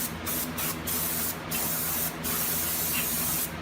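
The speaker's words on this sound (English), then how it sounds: "we're going to use some handy brake clean" Bursts of aerosol brake cleaner hiss in several short and long blasts, separated by brief pauses, close and steady, sprayed onto a Toyota 4Runner wheel hub.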